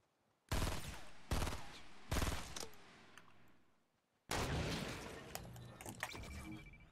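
Gunfire in GTA Online: three loud, close bursts of rapid shots early on, a near-silent gap, then a longer sustained stretch of heavy firing.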